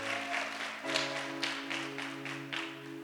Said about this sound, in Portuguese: Mas, aplauda Jesus.